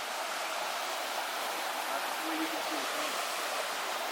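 A clear stream flows through a forest nature reserve, a steady soft rush of running water continuing evenly and faintly throughout with no other sounds standing out.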